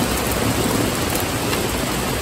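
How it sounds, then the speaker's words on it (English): Steady, dense heavy rain pours without a break, with a low rumble that could be distant thunder underneath; no one speaks. "This rain is definitely going to be good for them."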